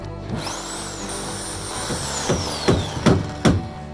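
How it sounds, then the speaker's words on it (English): A Sawzall reciprocating saw carving into a wooden floor joist, a steady mechanical drone broken by several louder, rhythmic bursts toward the end, close and alone. "You know, the Sawzall, the precision tool."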